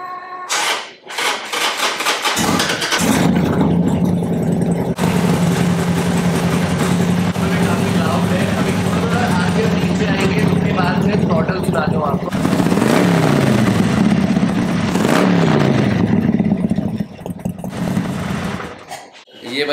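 A Harley-Davidson motorcycle engine idles with a deep rumble and revs up several times, loud and close, with no talking.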